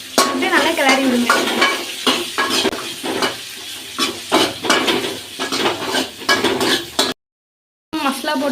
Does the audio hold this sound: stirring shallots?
yes